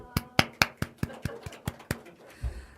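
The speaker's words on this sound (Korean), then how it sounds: "박수." A church congregation gives a short round of claps, about nine sharp separate hand claps in a loose rhythm that thin out and give way to a low rumble at the end.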